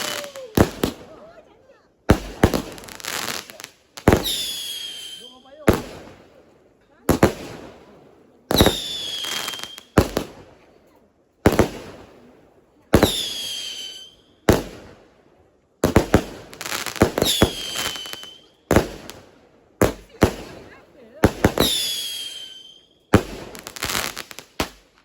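Fireworks and firecrackers bursting during a Raya celebration, a long run of loud sharp cracks and whistling rockets in quick clusters, some close and some further off, with people talking in between.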